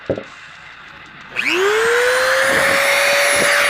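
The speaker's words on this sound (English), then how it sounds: "I'm going to use the DREMEL with a little cutoff wheel on it. Just punch through and follow it all the way around." A Dremel rotary tool with a small cutoff wheel spins up sharply and then holds a loud, steady high-pitched whine as it cuts into a plastic bumper cap, close and alone after a short quiet lead-in.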